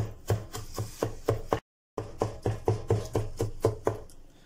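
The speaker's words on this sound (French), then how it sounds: "vous mettez votre couteau comme ça et vous donnez des gros mouvements jusqu'à temps que ça soit haché bien fin" A knife chops aubergine finely on a board in quick, even strokes, about three per second. The close, crisp cuts pause briefly for a moment of silence and then carry on at the same pace, with no talking.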